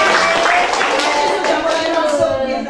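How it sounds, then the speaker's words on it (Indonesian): An audience claps together during a teacher's classroom presentation, a dense, steady patter of many hands that carries on for a few seconds with some talk mixed in. "Ya, tepuk tangan dulu."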